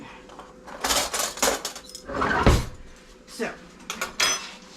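Metal spoons and dishes clatter and clink while being handled during breakfast taco preparation, several sharp close bursts of cutlery on crockery, with a brief spoken word.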